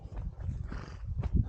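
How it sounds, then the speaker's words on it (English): A horse on a hiking route near Noorbeek in the Netherlands gives a short, low, breathy snort and rumble, close and fairly soft, lasting just over a second. "Horse was talking."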